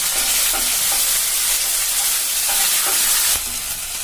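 Loud, steady sizzling and bubbling of potato curry spices in hot oil in a wok, with occasional scraping stirs, close up and continuous.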